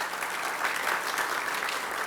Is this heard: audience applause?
yes